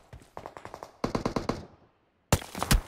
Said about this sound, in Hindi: रोड साइड से ही फायर है।